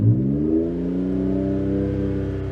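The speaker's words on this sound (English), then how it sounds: "let's fire up the little 1 litre engine" A Seat Mii's small 1 litre engine revving with the throttle held flat to the floor, a loud sustained drone that climbs steadily in pitch and then holds near its rev limit, heard alone.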